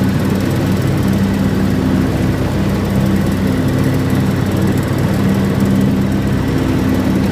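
John Deere X724 4WS lawn tractor running steadily while blowing cut grass into a windrow, a continuous loud engine drone with steady low hum and no talk.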